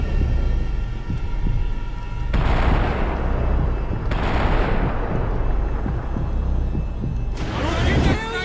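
Covering gunfire in Max Payne 3 rattles as dense, rapid shots over a low rumble, with bursts swelling and dropping back, mixed with distant blasts and some background voices.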